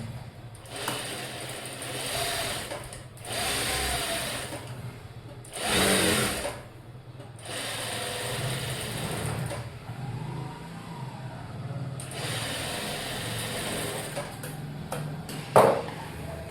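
A sewing machine double-stitches a blouse joint, running in several moderate whirring bursts separated by short pauses, with a brief sharp click near the end.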